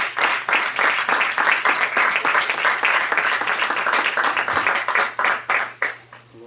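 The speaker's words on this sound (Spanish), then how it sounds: "Dale un aplauso al Señor." A church congregation claps together during a service, with loud, full applause carrying a loose rhythmic pulse and a low steady hum underneath before it tapers off at the end.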